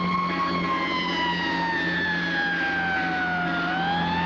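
An old FDNY fire truck siren in the Bronx wails loud and close, a single mechanical tone that slides steadily downward in pitch before lifting again near the end.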